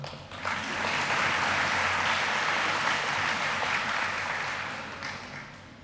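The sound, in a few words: applause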